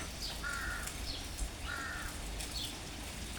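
Two harsh, drawn-out caws from a crow at moderate distance, evenly spaced, with fainter calls and steady outdoor background noise between them.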